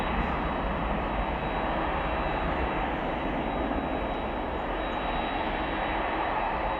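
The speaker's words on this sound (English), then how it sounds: "Atlas Air in flight 9234 off to Seoul" An Atlas Air jet, flight 9234, departs O'Hare bound for Seoul with a steady, heavy engine roar that stays constant and fairly loud throughout, with no voices.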